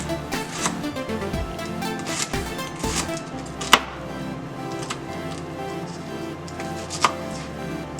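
A knife chops shallots finely on a cutting board, a run of close, soft rhythmic taps with a few sharper knocks, no voices over the steady kitchen background.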